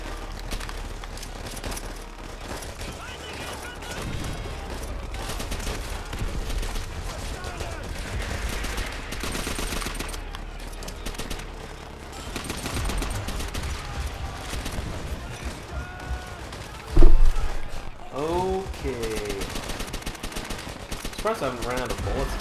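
Rapid bursts of automatic gunfire and scattered shots in the video game Call of Duty: World at War, dense and continuous with a sharp louder blast near the end, mixed under game voices and talk.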